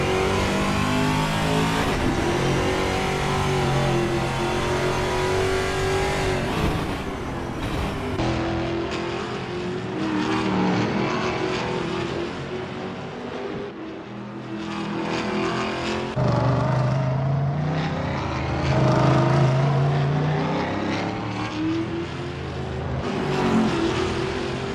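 V8 Supercar race cars warming up at Hidden Valley Raceway in the racing game Assetto Corsa: loud, close engines revving and accelerating, rising and falling in pitch through gear changes, with several cars overlapping.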